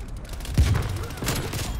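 A sniper rifle fires in an online shooter video game: one sharp, loud shot cracks out amid other game gunfire and noise, with a player's voice faintly audible.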